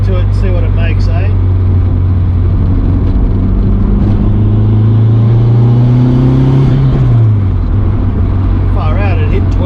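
Turbocharged EK Honda Civic running on E85 accelerates under boost, a loud, steady engine drone rising in pitch and then easing off, with a voice briefly heard over it.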